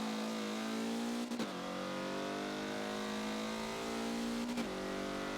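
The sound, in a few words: race car engine at Suzuka in Forza video game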